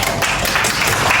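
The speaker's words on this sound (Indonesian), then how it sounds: "Boleh tepuk tangan untuk kelompok 1." Applause from a classroom group of students for the first presenting group, a steady dense patter of many hands clapping filling the whole moment without voices.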